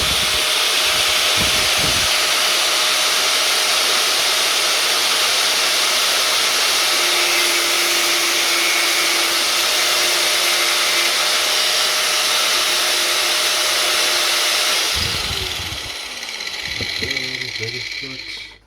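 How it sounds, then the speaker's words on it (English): An angle grinder runs with a steady high-pitched whine and hiss for about fifteen seconds, loud and close, then winds down and stops near the end; a voice speaks under it. "this is the angle grinder."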